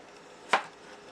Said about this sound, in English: Cut off the ends right here,